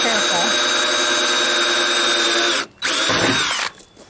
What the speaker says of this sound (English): you stopped drilling